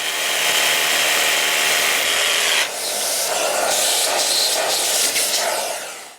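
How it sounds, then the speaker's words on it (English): A power drill boring holes into a concrete garage floor, loud and close, a steady grinding rasp that briefly dips near the middle and then continues with pulsing surges before winding down. "I can now drill those holes."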